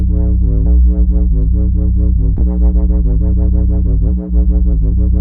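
A thick, buzzy dubstep sub bass synth pulses in a steady rhythmic wobble, loud and upfront with deep low end and no voices.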